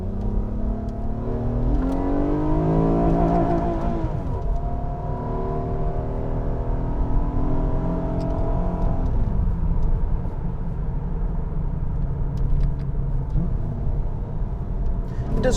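A 2007 Acura TL Type S engine climbs in pitch under acceleration, eases off, then pulls again, a continuous cabin-heard rumble and whir with someone talking over it throughout.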